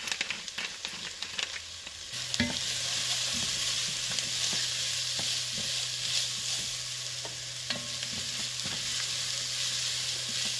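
Food browning in a pan hisses with a steady sizzle, broken by occasional clicks and scrapes of stirring, with a low hum running underneath after the first couple of seconds.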